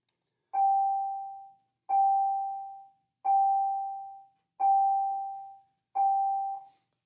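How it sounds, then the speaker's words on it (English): School bell ringing, five evenly spaced tones each lasting about a second, clear and loud with silence between them and no voices. "Sorry about the bell."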